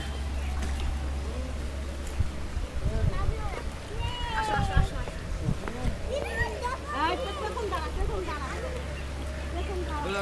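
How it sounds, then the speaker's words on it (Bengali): A passenger launch motoring past on the water, its engine a constant low hum under lively chatter from people nearby. "লঞ্চ যাচ্ছে"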